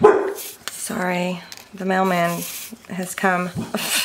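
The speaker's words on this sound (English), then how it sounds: "I think they're done barking" Dogs bark at the mailman in a home craft room, a few loud harmonic barks in bursts under and between a woman's speech.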